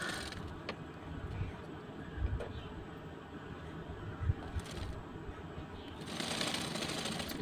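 A sewing machine runs in quiet, rapid rattling bursts while stitching a lined blouse sleeve, with a few sharp knocks and pauses, then a louder whirring run at the end.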